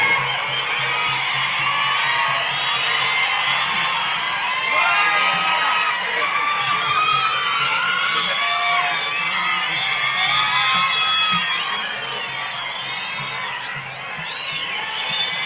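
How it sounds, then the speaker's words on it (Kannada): A large crowd at a Prajadhwani Yatra political rally for Siddaramaiah in Bableshwar cheers and shouts loudly, a dense, sustained roar of voices that eases slightly near the end. "ಜೋರಾಗಿ ಚಪ್ಪಾಳೆ ಮುಖಾಂತರ ನಮ್ಮ ನಾಯಕರಾದಂತಹ ಸಿದ್ದರಾಮಯ್ಯ ಅವರಿಗೆ ಸ್ವಾಗತ ಮಾಡಬೇಕಂತ ಕೇಳ್ಕೊಳ್ತೀನಿ"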